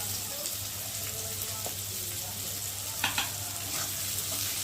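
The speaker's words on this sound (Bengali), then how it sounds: "এবার কেটে রাখা পেঁয়াজটা দিয়ে ভালো করে ভেজে নেব।" Chopped onions frying in a little oil for a Bengali chicken and papaya curry, giving a steady, close sizzling hiss with a couple of brief stirring clicks near the end and no talking.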